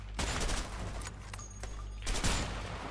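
Rapid bursts of gunfire from the video game A Way Out, a dense run of shots with a brief lull partway through before the firing resumes, loud and close.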